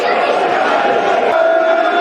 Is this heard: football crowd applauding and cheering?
yes